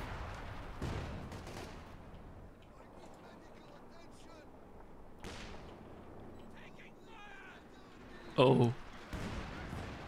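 Coordinated artillery barrage in Company of Heroes 2, several booming impacts at scattered intervals, one sharp burst near the end, with game effects and voices talking over it.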